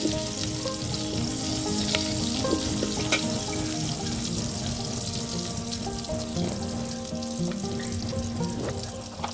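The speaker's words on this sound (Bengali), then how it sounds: "তেলের মধ্যে আমি এখন পেঁয়াজ কুচি দিয়ে দিলাম। পেঁয়াজটা আমি একটু হালকা করে ভেজে নিব।" Chopped onion frying in a little oil in a pan for a fish and okra curry, a dense continuous close sizzle with crackling pops and occasional stirring, alone without talk.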